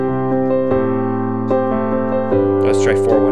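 A worship-style piano rhythm pattern moves through a 4-1-6-5 chord progression, with steady repeated chord strikes and sustained bass notes changing about every few beats, played clearly with no voices.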